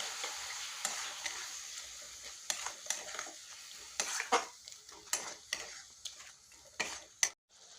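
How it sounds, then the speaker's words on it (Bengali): Masala for a paneer curry being stirred and sautéed in a pan, with a steady soft sizzle and repeated sharp scrapes and clicks of the spoon against the pan. "এখন এটা ভালোভাবে কষিয়ে নেব"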